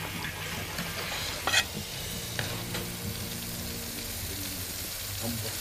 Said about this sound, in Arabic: التفاح بحمره في زيت غزير ما بياخدش معايا وقت بيتحمر